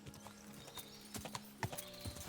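Horse hooves clip-clopping in the video game Kingdom Come Deliverance 2, a faint, irregular series of soft hoof thuds at a walking pace over a quiet background.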